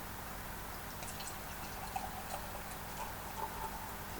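Broughton Ales 6.2 IPA being poured from a bottle into a glass, a soft, steady liquid trickle with faint fizz and drips, quiet and continuous with no talking.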